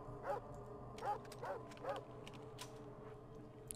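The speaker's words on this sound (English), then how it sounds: "Howling wolves." Wolves in the video game Fallout 2 give four short, evenly spaced howling yelps, fairly faint, over a low steady background drone.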